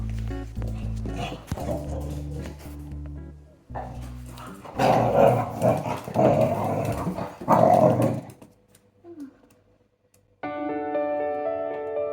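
A dog growling and barking close by, rough rumbling growls and bursts of barks over several seconds, with a stretch of quiet followed by steady tonal music near the end.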